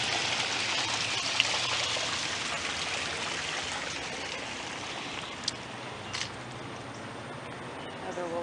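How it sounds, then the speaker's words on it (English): Very hot spring water pouring from an outlet into a public fountain along a promenade, a steady broadband rush and splash, close and continuous, with faint voices nearby. "But that is very hot water coming out of there."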